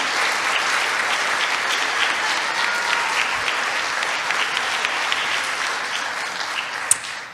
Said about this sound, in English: Would all candidates please stand as we give you a round of applause for a job well done?